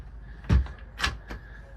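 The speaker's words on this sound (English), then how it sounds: "Locking mechanisms for your actual cabinets." A cabinet locking mechanism in a small toy hauler being worked, giving a close thunk followed by two lighter clicks and knocks over about a second, with a faint bit of voice nearby.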